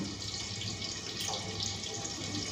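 Fresh coriander leaves being rinsed under running water, a continuous close hiss of flowing tap water with faint splashing, no voices.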